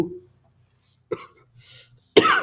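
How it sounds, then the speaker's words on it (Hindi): Several short, harsh coughs close by, separated by brief silences, ending in a louder, rougher cough. "सॉरी खांसी आ गई"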